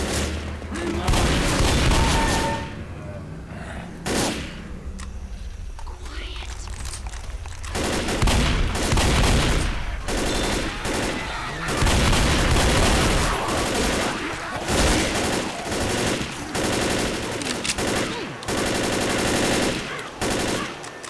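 Heavy gunfire from a Left 4 Dead zombie fight, loud rapid automatic bursts and single booming shots repeating throughout, with occasional talk mixed in.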